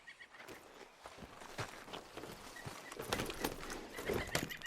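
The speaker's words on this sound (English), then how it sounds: "How's that horse treating you?" Horse hooves walking in the Red Dead Redemption 2 video game, a steady quiet clip-clop of footfalls that grows slightly louder toward the end.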